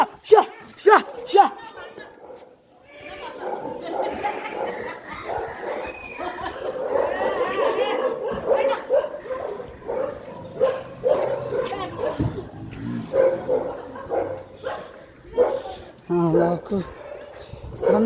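A dog barks and yips on a walking route, while people talk close by and the barks mix with their voices.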